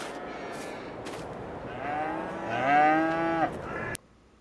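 Cows in a free-range pasture in the video game Farming Simulator 22 give a few drawn-out, close, fairly loud moos, with lighter bellows before them and no talking.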